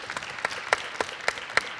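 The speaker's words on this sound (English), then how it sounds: "ask the audience to give a round of applause for" Sparse applause from a small conference session audience for ocean and coastal data panelists, a handful of distinct claps spaced unevenly, moderately near and fairly quiet.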